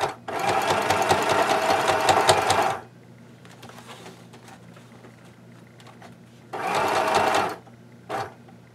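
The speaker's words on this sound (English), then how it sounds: "we're gonna do painted side up and we're gonna sew these down" Sewing machine stitching down a painted fabric belly band for a travel case, two loud rapid bursts of stitching separated by a quieter pause with light handling, then a brief final run.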